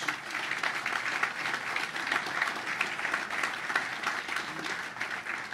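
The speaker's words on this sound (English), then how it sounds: "let's give them a round of applause" An audience at a National Sailing Hall of Fame induction ceremony gives board members a sustained round of applause, a dense even wash of clapping from a hall crowd.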